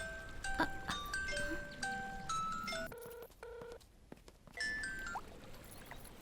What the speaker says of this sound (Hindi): फोन लगा, मैं बात करता हूँ।